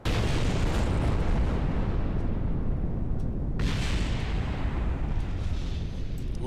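Rocket crashing into a building in Kerbal Space Program, with a sudden loud explosion followed by a long roaring rumble of collapse and a second burst midway, sustained and heavy throughout.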